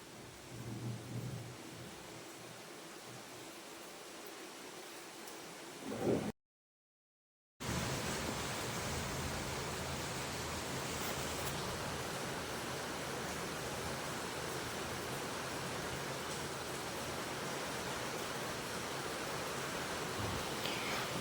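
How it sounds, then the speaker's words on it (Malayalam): Rain falling outside during a thunderstorm, a dense, steady hiss of downpour with low rumbling underneath, heard from indoors at moderate level, broken by a short silent gap. "നല്ല ഇടിയും മഴയൊക്കെ ഉണ്ട്."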